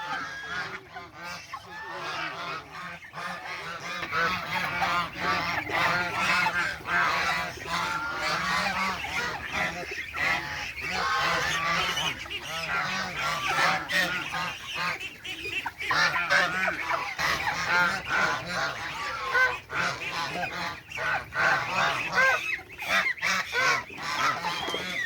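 Chinese breed geese honk repeatedly from a flock, loud overlapping calls coming in irregular bursts across the whole stretch, close and without talk.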